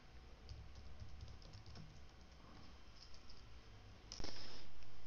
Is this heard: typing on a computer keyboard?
yes